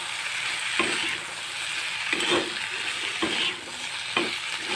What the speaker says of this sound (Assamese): এনেকৈ এইখিনি সিজালৈকে লৰাই লৰাই ভাজি থাকিম।